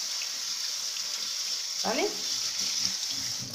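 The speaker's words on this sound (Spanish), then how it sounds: "Lo enjuagamos bien con agua de grifo" Tap water runs with a steady hiss while artichokes are rinsed under the faucet, and a short splash and clatter of handling occurs midway as a voice speaks briefly over it.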